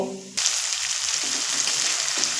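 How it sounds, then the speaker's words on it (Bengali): Masala for fig chicken sizzles in hot oil: a loud, close frying hiss kicks in abruptly after a short quiet start and continues steadily with faint stirring scrapes. "দেখুন মশলা তো কষা হচ্ছে"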